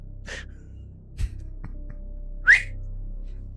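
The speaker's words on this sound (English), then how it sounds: "And I whistle." A person gives short rising whistles in a quiet room, one brief chirp near the start and a clearer upward-sliding whistle later, with a few soft thumps between.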